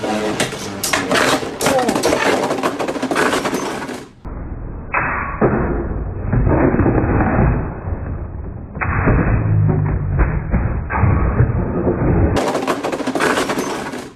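Beyblade spinning tops launched into a stadium and battling in a tournament final, a dense continuous whirring and scraping with rapid clicks and knocks that keeps going for many seconds, with voices excitedly talking over it.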